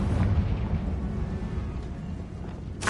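Confringo fire spell in Hogwarts Legacy, heard as a broad rumbling blast that rolls on for a few seconds with a sharp burst of crackle right at the end.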